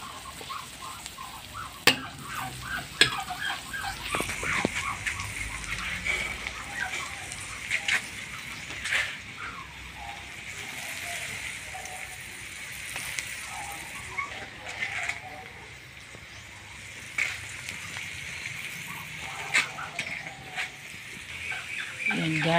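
Garlic, onion and other aromatics sautéing in a pan for a large batch of spaghetti sauce, a steady close sizzle with sporadic crackles and clinks of stirring, while people talk and chickens cluck in the background.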